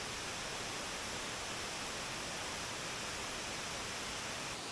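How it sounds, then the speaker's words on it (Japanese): Uryu waterfall in Nakatsu Gorge, Kochi, a steady broadband rush of falling water, constant and fairly faint, with no voices. "奥に進むと中津渓谷のシンボル、雨竜の滝があります。"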